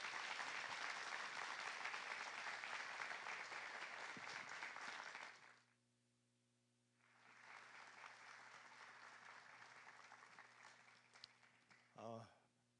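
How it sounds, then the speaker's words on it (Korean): A Korean church congregation at a Friday worship service claps warmly to welcome the pastor to the pulpit, with sustained loud applause that suddenly stops, then resumes a little later before tapering off. "우리 세미안교회가 보낼 수 있는 가장 뜨거운 박수로 우리 목사님 격려하며 하나님께 영광 박수 올리겠습니다"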